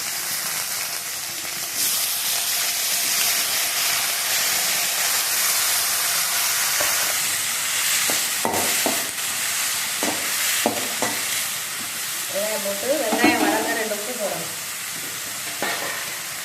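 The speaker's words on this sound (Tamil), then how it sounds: "வெங்காயம் லைட்டாக வதங்கிடுச்சு" Onions sauté in a pan for a coconut-milk fish curry, giving a steady, close sizzle and hiss throughout with occasional clinks and scrapes of stirring. There is no talking.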